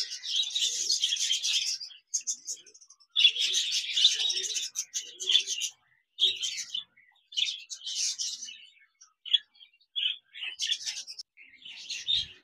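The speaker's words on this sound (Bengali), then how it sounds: "এখানে দেখতে পাচ্ছেন লুটিনো রেড আই বাজরিকার পাখি রয়েছে" Lutino red-eyed budgerigars kept for sale chirp and chatter in a busy, high-pitched flock, with bursts of calls separated by brief pauses and no talk over them.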